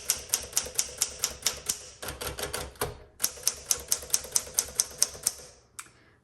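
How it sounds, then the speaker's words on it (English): Keys striking on a 1960 Smith Corona Sterling typewriter, a quick, even run of crisp clacks in short bursts with brief pauses, close and clear, ending with a bell-like ding. "you don't need much pressure on these keys at all, and they bounce right back"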